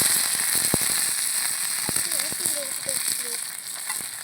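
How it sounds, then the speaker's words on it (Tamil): Mustard seeds and curry leaves spit and crackle in hot oil as a tempering for a Tamil onion-tomato chutney. Steady loud frying hiss runs throughout with scattered pops, and a few faint squeaks rise above it. "கடுகு போட்டு தாளிச்சிக்கலாம். கடுகு பொரிஞ்சாச்சு. கருவேப்பிலை போட்டுக்கலாம்."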